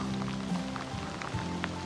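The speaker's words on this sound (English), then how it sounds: "And it's raining." Rain falling outdoors over river bottoms and crop fields during an elk bowhunt, a steady close wash of drops with a low continuous rumble and scattered faint patters, no talk.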